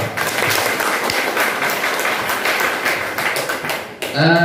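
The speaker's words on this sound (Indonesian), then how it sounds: "Tepuk tangan dulu." Participants at a teacher-training workshop give a dense round of clapping that fills most of the moment, fading out as a voice begins speaking at the end.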